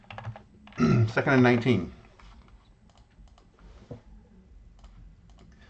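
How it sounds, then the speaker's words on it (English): Soft clicks of typing on a computer keyboard tap out irregularly after a man's brief spoken phrase, faint and close. "Let me type that in."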